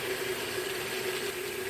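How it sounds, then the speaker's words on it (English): Meat stock poured into a pot of egusi soup, a steady, soft liquid stream with a faint tonal hum, even and uninterrupted for a brief moment with no talking. "So at this point, I'm going to add my meat stock."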